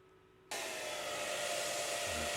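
Heat tool warming the battery of a Galaxy S7 edge phone during a screen repair, a steady blowing whoosh that starts abruptly after a quiet half second and runs on loud and close.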